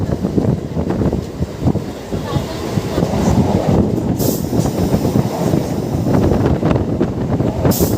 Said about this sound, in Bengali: এই যে হলো কলকাতা ব্লু লাইন মেট্রো